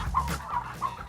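Domestic turkeys in a farm pen give three short, evenly spaced clucking calls close by, with a low background rumble and no talking.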